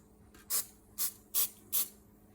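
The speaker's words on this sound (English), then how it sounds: "I will spray a little bit of rust protection inside this tubing here" Rust protection sprayed from a can into the aluminium handbrake cable tubing of a Rover 75/MG ZT, heard as four short, evenly spaced hissing bursts, close and crisp against a quiet background.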